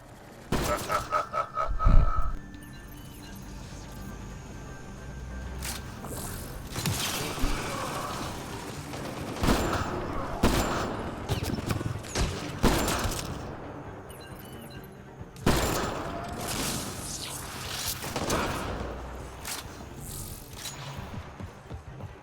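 Gunfire in the sci-fi shooter Mass Effect Andromeda: scattered bursts of shots and mechanical clatter over a low background, some bursts loud and dense, others sparse, running throughout.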